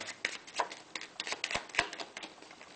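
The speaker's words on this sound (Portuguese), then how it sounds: "Agora eu vou embaralhar de um jeito que vai ficar tudo desorganizado." A deck of playing cards is cut and shuffled by hand on a tabletop, giving a quick run of crisp riffling flutters and sharp snaps at close range, fairly quiet, with no talk.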